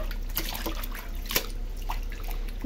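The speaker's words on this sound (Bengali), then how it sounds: "এখন মুরগিটা ধুয়ে নেই" Cut pieces of country chicken washed in water, giving close splashing and trickling with a few sharper sloshes over about three seconds.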